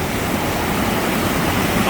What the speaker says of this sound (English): on a river that flows into a waterfall called Kuza Falls